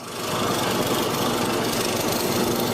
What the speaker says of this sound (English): Now I'm going to clean up the areas in between the full mortises that I've cut.